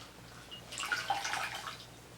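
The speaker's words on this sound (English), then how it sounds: "I'm going to soak this rag in the warm water" A rag soaks in warm water in a sink during a night skincare routine, giving a short, soft swish and trickle of dripping water that rises briefly and then fades, faint and close.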